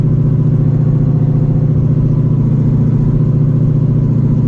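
A supercharged Shelby GT350 with an ESS kit runs hard on a dyno, a loud, steady, throbbing engine roar held close up for the whole stretch, with no voices over it.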